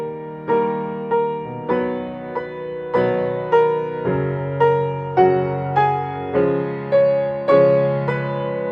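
A slow piano passage from a song, a steady series of sustained chords and single notes struck about every half second, each ringing and decaying before the next, played alone and clearly.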